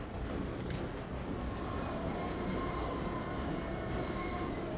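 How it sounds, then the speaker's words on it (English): A train rolls across a shaky bridge in the video game Half-Life 2, a steady loud rumbling roar with faint metallic rattle that holds evenly throughout, with no talk. "shaky bridge with a train going over it"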